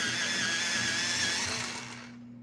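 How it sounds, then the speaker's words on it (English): A Prismacolor Premier colored pencil is ground in a sharpener, a steady motorized whirring hum close by that fades at the end. "This is getting very dull, so I'm going to sharpen it again."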